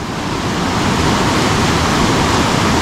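Floodwater rushing onto a farm field in Rio Grande do Sul after a storm: a loud, steady, broadband roar of fast-moving water, continuous and close throughout with no talk.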